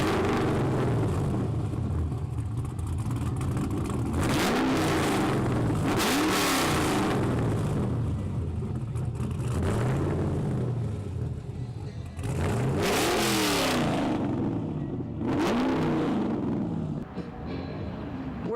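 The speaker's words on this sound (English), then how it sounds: "I'm sure the emissions testing guys like to hear that kind of noise coming out of a car" A car engine revs hard several times in a street setting, loud and close, each rev rising and falling in pitch with a steady engine drone underneath throughout.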